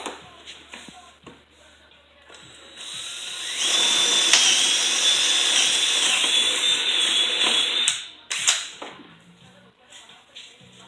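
A power drill whines steadily at high pitch for several seconds as it bores a hole into plywood, preceded and followed by clattering handling noises.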